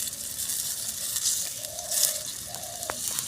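Quail eggs sizzling in a pan while being stirred, a soft steady hiss of hot oil close by with a few faint scraping stir sounds and small clinks.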